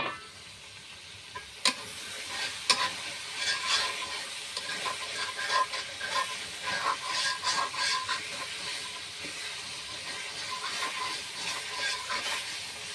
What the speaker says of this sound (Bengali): ঢাকনাটা তুলে আমি মশলাগুলো আরেকটু কষিয়ে নিচ্ছি